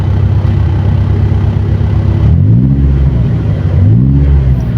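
A Mitsubishi Lancer GSR engine with a dual valve exhaust cutout open drones loud and steady at idle, then revs up twice in short swells, no talk.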